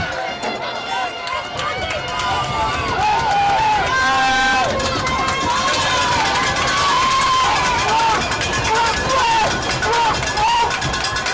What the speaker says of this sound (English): The crowd is getting hyped.